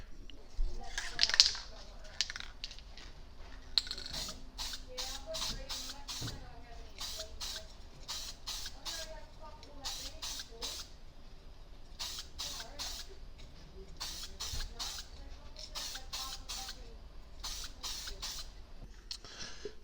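Repeated short hissing bursts from a can of frosted spray paint coating a small mason jar, sprayed in quick groups with pauses between, over a quiet room background.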